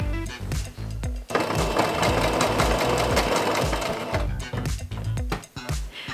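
A sewing machine runs along a fabric edge in a rapid, steady mechanical chatter, with short bursts and pauses before and after a longer continuous stretch of stitching, close up.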